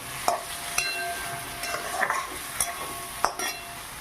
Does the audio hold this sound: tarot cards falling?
no